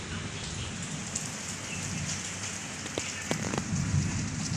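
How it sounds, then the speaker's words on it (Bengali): Heavy rain pours steadily beside a window, a dense, even hiss of drops on surfaces with a few sharper taps near the end and no voices. "বৃষ্টি কিন্তু হয়েই যাচ্ছে অঝোর ধারায় ঝরেই চলেছে"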